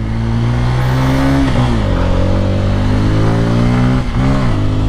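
A Kawasaki Pulsar N250 250cc motorcycle engine revs loud and close, its pitch climbing, dipping sharply at a gear shift, then climbing again before a second brief drop.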